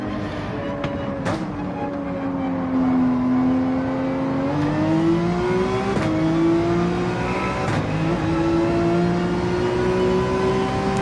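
A race car laps a rough track in Gran Turismo 7, its engine droning steadily and rising in pitch as it accelerates through gear changes, loud and continuous with no voices.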